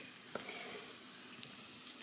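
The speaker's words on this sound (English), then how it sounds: "Right now, I got my last piece of bacon on here cooking." Bacon frying in a miniature pan over a small open fire, a quiet, steady sizzle and hiss with a couple of brief crackling pops.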